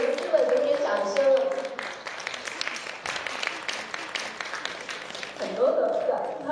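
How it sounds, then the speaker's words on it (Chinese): Fans at a Chinese film press event applaud in a steady, dense wash of clapping that runs throughout, with a voice speaking over it at the start and again near the end. "粉丝们给予掌声"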